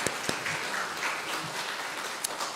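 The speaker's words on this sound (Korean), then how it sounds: "다시 한 번 더 목사님께 감사의 박수 한번 드리겠습니다." A church congregation applauds the pastor during a Sunday choir dedication service at Oakland United Methodist Church, with a steady wash of clapping throughout and a few sharper claps standing out.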